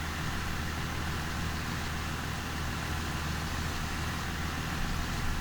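Tractor engine fitted with row crop tyres in the video game Farming Simulator 2015, working a field: a constant low engine drone at moderate level with no talking.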